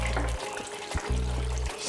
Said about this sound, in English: While my chicken's frying